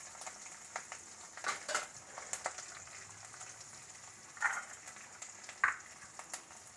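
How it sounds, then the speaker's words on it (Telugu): Garlic fries lightly in a pan for toor dal and spinach fry, giving a soft, faint sizzle with scattered crackles and a few louder pops, and no one speaks. "కొంచెం లైట్గా ఫ్రై అయితే సరిపోతుంది."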